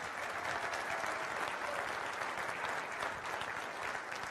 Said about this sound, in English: Why don't we give her a nice round of applause?